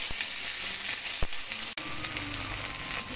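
Chopped onions frying in leftover fish-frying oil with a dried red chilli and black cumin tempering: a continuous close hiss and crackle, steady and even throughout, with no talking.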